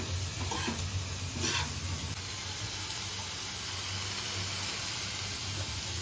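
Paneer sizzles and fries in a hot pan while being stirred, a steady soft hiss with a few light scraping touches, fairly quiet and with no talking.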